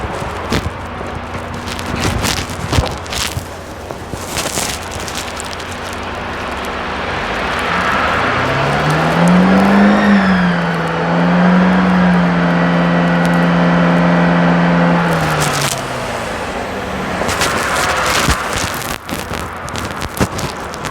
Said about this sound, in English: I'm going to try revving it up and see what happens.